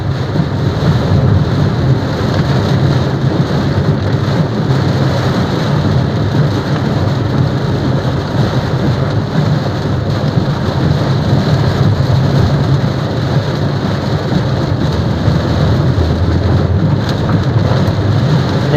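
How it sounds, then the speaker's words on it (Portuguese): Heavy rain pounds a VW Gol G6 1.0 while driving, a loud, dense, continuous roar of rain on the car with rumbling thunder and low road noise throughout, no talking. "Eita, que a chuva tá intensa, senhor."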